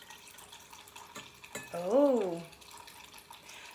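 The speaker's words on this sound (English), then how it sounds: "I'm pouring all of it in there." Water pours from a one-cup measure into a small drinking glass, producing a short gurgling fill that swells and fades within about a second, with a brief exclamation just before.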